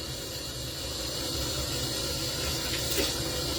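Water runs steadily from a tap at a sink while cleansing balm is rinsed off the face, a constant close hiss that continues without any talking.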